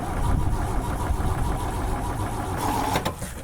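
A German motorcycle engine with the choke out cranks and runs roughly, a steady close mechanical rumble with a brief louder burst near the end.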